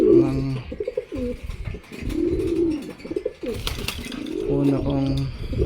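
Pigeons coo nearby in repeated soft rolling calls, with someone talking over and between them.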